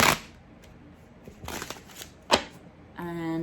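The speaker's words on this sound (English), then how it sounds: "I am going to shuffle on deck." A tarot deck is shuffled in a few short riffling bursts, soft and close, separated by quiet pauses, with a brief tone or voice at the end.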